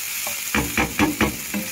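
Meat browning in a hot pan for ginisang monggo, a loud close sizzle broken by several quick stirring scrapes in a regular rhythm.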